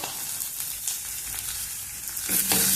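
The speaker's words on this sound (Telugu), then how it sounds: "కొంచెం వేయించుకున్నాము." Chopped ginger and curry leaves, with green chillies and onion, fry in hot oil in a pan, giving a steady close sizzle with light stirring scrapes and no talking.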